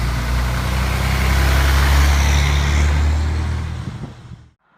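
A diesel dump truck's engine rumbles loud and close with a steady, heavy low drone, then cuts off abruptly near the end.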